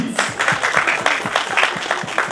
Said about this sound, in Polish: Wielkie brawa dla Przyszowic!